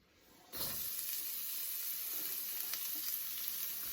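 Onions and potatoes sizzle steadily in hot oil in a pan, a loud continuous frying hiss that starts abruptly as they go in and holds, with faint stirring scrapes.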